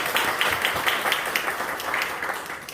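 A church congregation at a Sunday worship service applauds a missionary, producing steady, moderately distant clapping that holds at an even level throughout.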